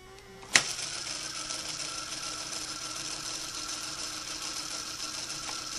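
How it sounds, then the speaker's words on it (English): A Roomba Discovery 4210's left wheel motor runs in its built-in test, starting with a sharp click and then a steady, even mechanical whir held close up without pause. "Now we got left wheel test is running. And we can hold our hand over it to stall it."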